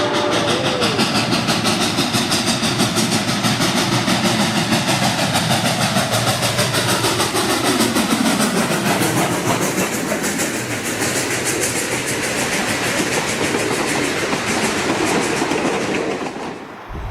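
Southern Pacific steam locomotive 2475 races past at full speed, a loud, sustained roar of rumbling and rhythmic rail clatter close by that fades slightly toward the end.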